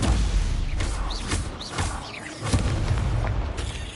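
Stupefy spell cast in Hogwarts Legacy during a night-time duel: a series of booming magical bursts and pops, layered with whooshing, whistling spell effects that sweep up and down over a continuous low rumble.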